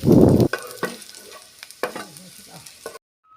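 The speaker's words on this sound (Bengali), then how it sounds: "একটা পেঁয়াজ থেকে হাফ পেঁয়াজ এখানে কেটে নিয়ে এখানে একটু ভেজে নিচ্ছি" Half an onion, sliced, frying in oil in a pan: a loud burst of sizzle at first, then quieter intermittent stirring clicks and pops nearby, with no talk.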